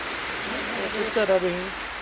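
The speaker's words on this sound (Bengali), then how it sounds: "বৃষ্টি নামছে" Steady rain falls outdoors in front of a shop, a dense even hiss throughout, with a person briefly speaking partway through.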